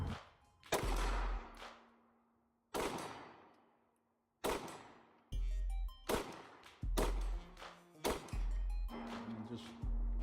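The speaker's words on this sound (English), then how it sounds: "just quick shots at 50, no problem" Several sharp CZ P10C pistol shots fired at a 50-yard target, each a loud crack with a ringing outdoor echo, roughly five or six spaced at irregular intervals with no talk.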